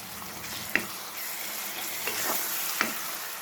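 Ginger-garlic paste frying in a pan with onions, a soft steady sizzle broken by a few sharp clicks of a spoon against the pan, with no voices.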